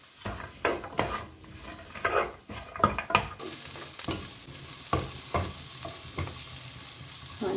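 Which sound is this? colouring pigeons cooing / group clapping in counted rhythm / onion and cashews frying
onion and cashews frying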